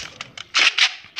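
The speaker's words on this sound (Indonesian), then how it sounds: "Tembak-tembakan." Short bursts of gunfire in the Free Fire battle royale video game, several sharp shots in quick succession over about a second, loud and close with brief gaps between them.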